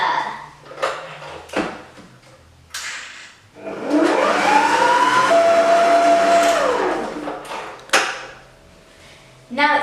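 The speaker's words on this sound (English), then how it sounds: "And now we're going to mix it all together." Ingredients for dairy-free Nutella cookie dough being mixed together: a rising whir holds steady for a few seconds, framed by brief clatters and knocks of bowl and utensils.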